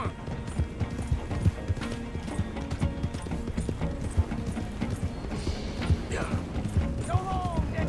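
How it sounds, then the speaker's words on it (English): Rapid clip-clop of hooves at a gallop in the video game Red Dead Redemption 2, steady and close, with a horse whinnying near the end and other game sounds layered in. "Get back on the horse."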